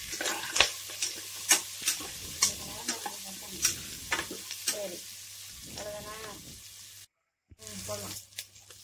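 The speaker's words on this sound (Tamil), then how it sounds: "பச்சை மிளகாய் ஆட் பண்ணிக்கலாம் வெங்காயம் நல்லா வதங்கட்டும்" Onion and green chili sautéing in a pan for Tamil tomato rice, a steady sizzle broken by repeated sharp spatula scrapes and stirs, with a brief silent gap near the end.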